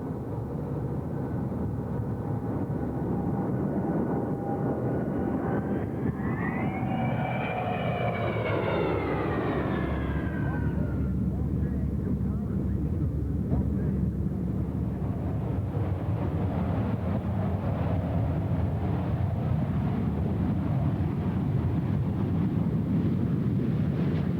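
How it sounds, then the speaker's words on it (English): A US Navy F/A-18 Hornet fighter jet of VFA-125 roars through a tactical demonstration at an air show, its engine whine sweeping sharply in pitch as it passes close by, over steady wind and crowd rumble. "We're about to see a tactical demonstration by one of the most devastating aerial weapons that the United States fighting forces employ, and that is the FA-18 Hornet"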